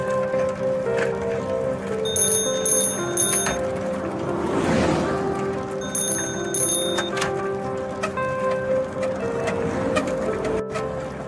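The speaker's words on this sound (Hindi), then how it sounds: "आज भी जब साइकिल की घंटी देती है सुनाई" A bicycle bell rings in two short clusters of bright metallic dings over a busy street background with steady ambient noise.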